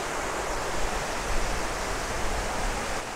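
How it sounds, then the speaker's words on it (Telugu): A large waterfall in the Araku Valley roars as a steady, dense wash of falling water, continuous and fairly close with no break for the whole stretch. "సో ఇటు సైడ్కే ఇట్లా ఉంది వాటర్ ఫాల్"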